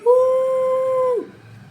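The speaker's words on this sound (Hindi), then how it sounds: "इन चीखों से आवारा कुत्ते भी डर कर रो उठते थे।" A stray dog gives one loud, steady howl that lasts just over a second and then breaks off, with only faint background noise afterward and no talking.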